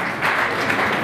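An award-show audience applauds for a singer, a loud, close, dense roar of clapping hands that stays full and unbroken through the whole second.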